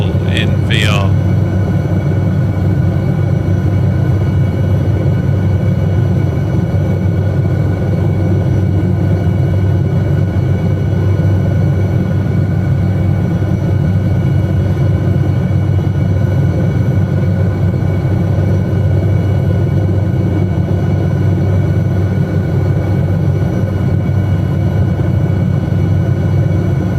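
An SA315B Lama helicopter flies in a flight simulator over Lofoten, Norway, a steady droning engine and rotor rumble throughout, with speech over it.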